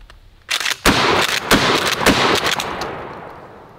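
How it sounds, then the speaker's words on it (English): Shotgun blasts at a microwave, firing buckshot and then a slug: several loud, sharp reports in quick succession, each with a short echoing tail that fades away at the end. "Buckshot first, then a slug."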